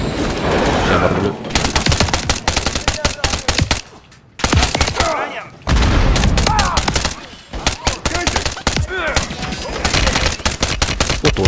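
Turret gunfire in Call of Duty Modern Warfare 3, loud dense bursts of rapid automatic fire with brief pauses between volleys, with voices talking in between.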